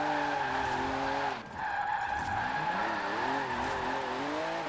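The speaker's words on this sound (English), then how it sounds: "You pull that handbrake and it just keeps on sliding for days." A car in the Forza Horizon 4 racing game slides long and loud under a pulled handbrake, its tyres screeching over a steady engine drone, with a brief dip in the middle before the skid carries on.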